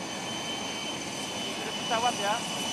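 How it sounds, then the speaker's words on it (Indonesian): Jet plane engine whining steadily before departure, carrying a departing Jordanian king, heard at a distance with a faint rising tone near the end. "Kita tahu bahwa Raja Abdullah II sudah memasuki pesawat pemirsa dan nampaknya siap untuk berangkat sesaat lagi."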